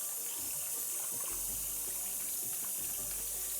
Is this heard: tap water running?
yes